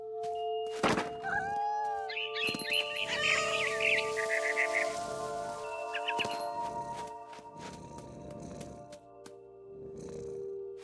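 A cat in the video game What Remains of Edith Finch gives rising meows and chirps, then a soft purr, over steady game tones. Dull thumps come through at intervals and there is no talk.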